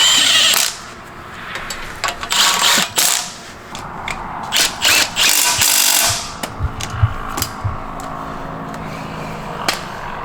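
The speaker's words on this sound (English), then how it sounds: "And now we're just getting the torque tube all tightened up." Bursts of a power tool tightening the torque tube bolts on a Corvette during a clutch job, several short whirring and ratcheting runs with pauses between them, close and loud in a garage, no talk.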